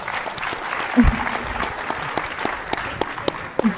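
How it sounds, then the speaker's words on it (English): Conference audience applauding panelists after an Ethereum session, steady dense clapping throughout from a large crowd, with a few louder claps near the front. "let's give our panelists a big round of applause"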